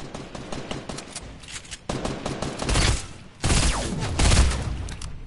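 Rapid video-game gunfire from an enemy shooting out of a house: loud dense bursts of automatic fire in several waves, with short pauses between them.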